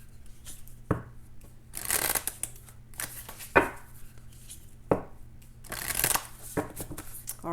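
A Moonology oracle card deck is shuffled up close in several quick riffling bursts separated by short pauses and soft taps of the cards, with no talking.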